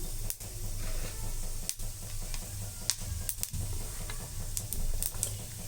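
Fennel seeds, cinnamon sticks and cloves sizzle in hot oil for Chettinad chicken curry, a continuous soft crackle with a few sharp clinks of a utensil against the pan.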